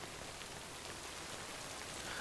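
Rain falls in the game Death Stranding: Director's Cut, a steady soft hiss of drops with no breaks, even and fairly quiet throughout.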